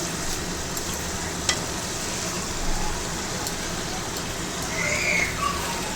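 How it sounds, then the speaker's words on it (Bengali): Chicken stirred in a kadai over high flame, a steady sizzle and frying hiss with occasional scrapes and clinks of the spoon, continuous and close. "আমি কড়াইতে নাড়ছি"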